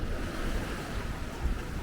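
Ocean waves washing against a rocky coast, a steady broad rushing wash with wind noise on the microphone, even and continuous, with no voices.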